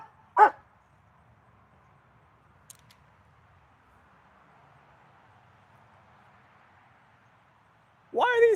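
Pet dogs barking indoors: one sharp bark at the start, then near silence with faint room noise, and a louder burst of barking and yelping at the very end.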